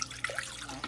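Water running from a tap into a pot, about three cups measured out for sugar-free elderberry syrup, a close, steady splashing trickle without talk.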